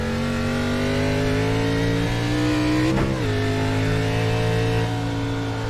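A race car engine screams at full throttle from on board during an oval-track race, a loud, sustained high-revving drone with a brief dip and gear change near the middle, alone without talk.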